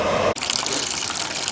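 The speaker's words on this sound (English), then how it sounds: "getting the wort out into my pot, where we'll do a boil for an hour afterwards" Hot wort gushes from the mash into a home-brewing pot, a loud steady rush of pouring liquid heard alone after a brief lead-in.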